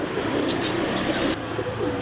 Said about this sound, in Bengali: হ্যাঁ, বন্ধুরা আপনারা দেখতেছেন পাঙ্খি কবুতর